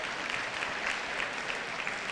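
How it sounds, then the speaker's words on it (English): Crowd applause at a school netball match between Cheltenham College and Malvern College, a soft, continuous patter of clapping from a distance with no voices over it. "certainly is a big round of applause"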